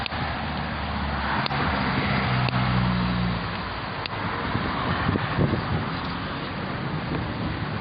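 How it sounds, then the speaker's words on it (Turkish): Wind gusts and buffets steadily against the microphone, a continuous rough roar with a few faint knocks and low rumbles underneath. "Rüzgar esiyor."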